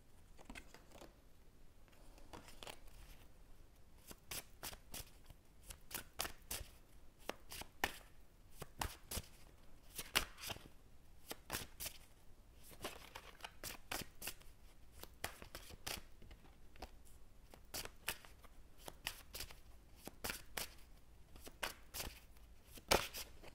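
A deck of tarot cards is shuffled over and over, giving soft riffling flicks and rapid patters in irregular bursts, close and quiet, with no voices.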